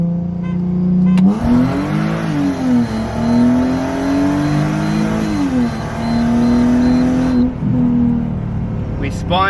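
A Mercedes SLK32 AMG on a TCU-tuned transmission pulls hard at full throttle on a damp road, its engine note rising steadily through the revs with clear gear shifts, loud and close from inside the car.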